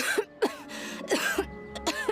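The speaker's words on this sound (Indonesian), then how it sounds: "Aduh, batuk." Several short, harsh coughs in a row, close and distinct, with brief pauses between them.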